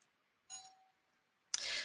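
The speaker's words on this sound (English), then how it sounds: "there was a little doorbell ringing" A small doorbell gives a brief, faint ding with a short ringing tail, followed by a louder burst of noisy clatter, with no talking.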